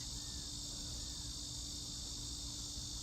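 Loud cricket-like insects chirping outdoors, a continuous high, shrill drone with steady pulsing that fills the whole stretch, close and dominant with no talk.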